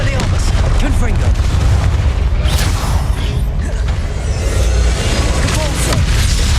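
Confringo spell blasts go off in Hogwarts Legacy amid a loud, steady barrage of booming, crackling impacts and clattering mechanical noise, with overlapping bursts throughout and faint voices underneath.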